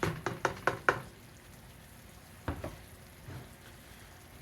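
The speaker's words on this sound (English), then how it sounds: "it's just lightly simmering" Sliced apples lightly simmer in a sweet sauce in a pan with a soft, steady bubbling hiss, opened by a quick series of utensil knocks and another pair of taps midway.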